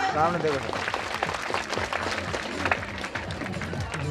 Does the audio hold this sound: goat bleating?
no